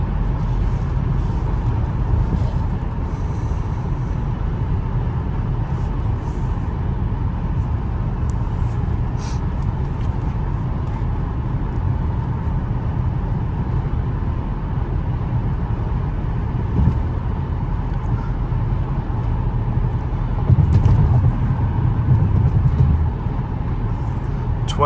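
A 2004 Jaguar XJ8 cruising on city streets and freeway, its steady low engine and road rumble continuous and close throughout, with a smooth even drone and occasional faint bumps.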